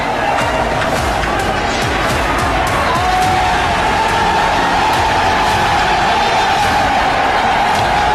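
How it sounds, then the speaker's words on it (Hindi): Dense crowd of protesters storming and vandalising the Bangladesh parliament building, a loud continuous roar of many voices with shouts and cheers throughout. "संसद में भीड़ ने भारी तोड़फोड़ मचाई"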